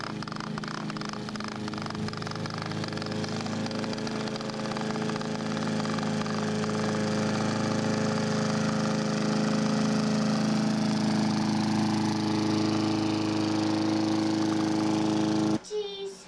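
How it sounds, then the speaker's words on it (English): Toy lawnmower pushed along, giving a steady close whirring and clattering drone that runs continuously and then stops abruptly, with a bump at the end. "Is that Logan's lawnmower?"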